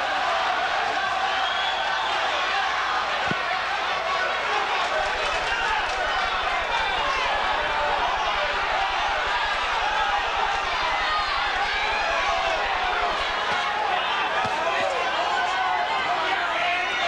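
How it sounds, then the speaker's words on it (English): A crowd at an IBF middleweight title boxing bout between Michael Nunn and Marlon Starling chants and roars, a dense, continuous arena din under a commentator's voice. "Crowd is chanting Marlon"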